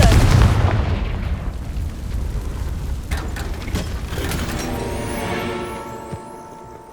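A Confringo fire spell blasts in Hogwarts Legacy, a loud booming explosion that hits hard at the start, then rumbles on with crackling debris and a slowly fading tail.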